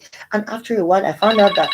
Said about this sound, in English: sorry, that was my phone going on